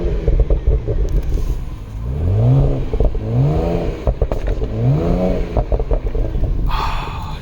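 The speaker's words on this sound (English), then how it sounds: "Let me actually give you guys a sound on the exhaust, since the M exhaust sounds amazing." A BMW E93 335i convertible with a manual gearbox and M exhaust revs up close, rising in three or four deep swelling pulls with a rumbling idle between them and crackles near the end.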